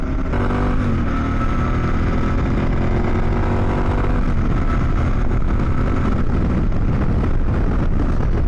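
A KTM 1090 Adventure R motorcycle engine drones loud and continuous while riding and accelerating smoothly, heavily mixed with wind rush against the microphone, with no talking.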